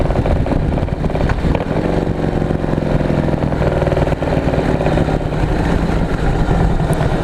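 A 2017 Harley-Davidson Heritage engine rumbles steadily at cruising speed, loud and close, with wind roar constantly over the low exhaust drone and no talk.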